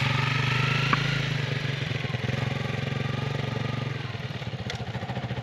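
A Honda CRF 300L dual sport motorcycle pulls away with a steady, pulsing single-cylinder putter that shifts in tone as it moves off. It stays fairly close and loud throughout.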